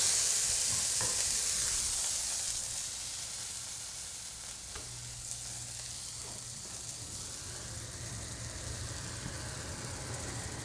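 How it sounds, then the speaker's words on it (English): Garlic and hot pepper sizzle in a hot pan for a sesame chicken dish, a steady crackling hiss that is loudest at first and then settles to a softer, even fry, heard alone without talking. "we're going to toss in our garlic and hot pepper. And let that sizzle."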